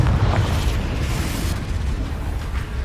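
A Confringo spell explodes in the video game Hogwarts Legacy, a loud sustained fiery boom with a rumbling, roaring tail lasting a few seconds.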